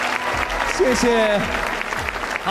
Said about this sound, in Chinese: 再次掌声谢谢娜姐